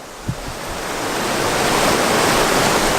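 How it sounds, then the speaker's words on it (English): Steady broadband rush of running water at The Hermitage, like a stream or falls, gradually swelling a little louder, with a brief faint knock near the start. "We've got a lot of this, as you can probably hear, running water."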